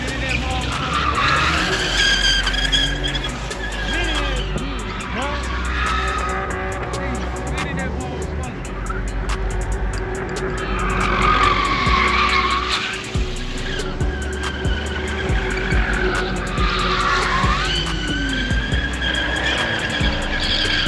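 A car spins its tires at a nighttime-style car meet, with long, loud screeching tire squeals and a revving engine roaring up close, while a crowd shouts and talks over the noise.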